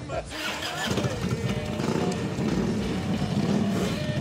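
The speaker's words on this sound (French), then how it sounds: "rien de mieux maintenant qu'une balade en Harley" A Harley-Davidson motorcycle rumbles along on a ride on La Réunion, a loud, continuous engine drone close by, with a voice talking over it.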